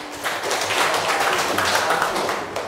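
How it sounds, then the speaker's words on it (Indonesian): Applause in a classroom for a student group after their presentation, a brief steady patter of clapping from a small crowd, fairly close and even throughout. "tepuk tangan untuk kelompok 5 ya"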